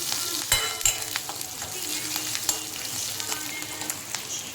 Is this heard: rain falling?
no